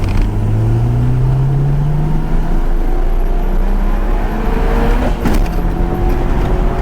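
A 1991 Honda Civic Si engine drives along, a loud, close rumbling drone with a rising rev early on and steady road noise throughout.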